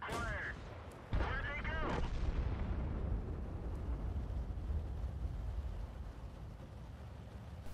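An artillery shell hits the player's M5 Stuart tank in a video game: one sudden, loud blast followed by a steady, heavy rumbling roar, with a brief voice just before the impact.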